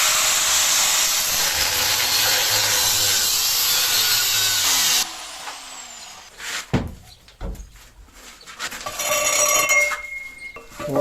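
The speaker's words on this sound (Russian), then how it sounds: "Чтобы вытащить наружу весь глушитель, надо отрезать при помощи болгарки." An angle grinder cutting through a car muffler: a loud, sustained high-pitched grinding whine for several seconds that cuts off abruptly, followed by clanks and scraping of metal parts.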